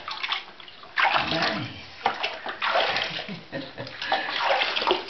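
A dog gets a bath under running shower water, with a steady splashing spray that swells and dips in bursts close by while a person talks softly over it.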